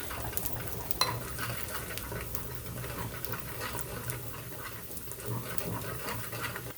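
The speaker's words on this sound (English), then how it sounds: "So we are whisking for just until it's blended on medium." Soft, rapid scraping and clinking of a whisk stirring Knorr hollandaise sauce in a pan on medium heat, a faint steady rhythmic swishing with light metallic taps.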